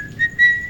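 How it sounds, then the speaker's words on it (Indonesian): A person whistles a short melodic phrase, two bright sustained tones over faint background noise, close and clear. "Siulan maut ya kan."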